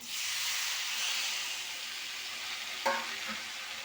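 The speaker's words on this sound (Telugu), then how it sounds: "ఇలా ఫ్రై అయ్యాక ముల్లంగి తురుము" Grated radish frying with salt and turmeric in a pan gives a steady, loud sizzling hiss with stirring, plus a brief sharp scrape near the end.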